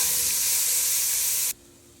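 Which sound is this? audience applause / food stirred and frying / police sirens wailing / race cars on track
food stirred and frying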